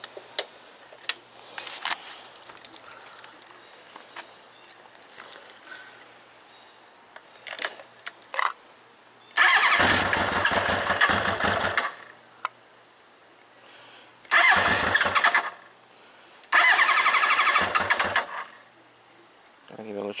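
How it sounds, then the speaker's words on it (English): 1981 Honda CB750 Custom motorcycle cranked in a workshop with a temporarily wired regulator: scattered small clicks and handling noises, then three loud bursts of starter cranking, each lasting one to three seconds, with no clear catch. "I'm gonna put it in the bike and I'm gonna give it a crank"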